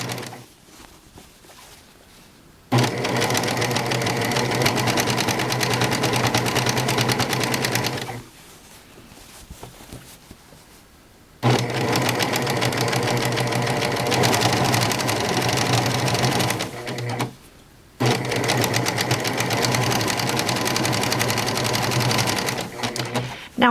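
A serger sewing machine stitches a pillow back in three loud, sustained motor runs with a fast steady hum, separated by short quiet pauses.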